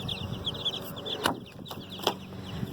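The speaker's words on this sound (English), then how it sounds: "To try the baby chickens in their new little space for a little bit today." Many baby chicks peep in quick high chirps, with a couple of sharp knocks or clatters in between.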